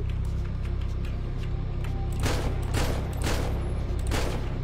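Rapid bursts of gunfire crackle through a GTA roleplay game session, several volleys in quick succession over a steady background rumble.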